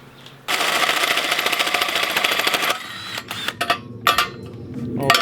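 A drill bores a hole for a socket in a Porsche 911 Turbo during an engine build, running in a loud continuous burst for about two seconds, then stopping, followed by scattered clanks and handling sounds.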